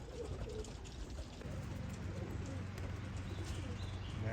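Racing pigeons coo in low, soft, repeated murmurs against a noisy background, steady and fairly close.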